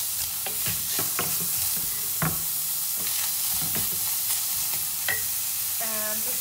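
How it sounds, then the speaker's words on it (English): Onions hit a heated pan to caramelize, giving a constant bright sizzle with the clatter and scrape of a utensil stirring them at irregular moments. The sizzle is close and loud, and there is no talking. "We're just gonna put on our onions to caramelize."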